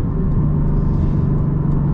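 A 2023 Porsche 718 Boxster Spyder engine with the PSE exhaust set to loud, a deep steady rumble heard up close without revving or talk.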